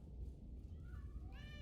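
A customizable cat in a video game gives a single rising meow near the end, clear over a low rumbling background.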